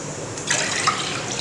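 Water is poured into a saucepan of milk for a bread falooda drink, a short, steady liquid splash lasting under two seconds with a brief burble partway through, close and clear with no talk.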